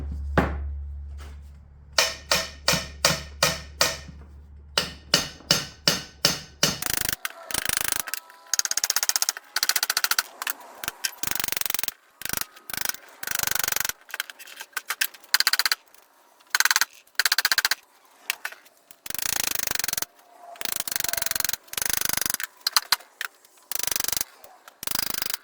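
A no-bounce hammer taps on the VGT turbo housing of a Ford 6.0 Power Stroke diesel, first as a quick series of sharp, ringing metallic strikes in a steady rhythm, then as irregular clanking and rattling bursts with short pauses between them.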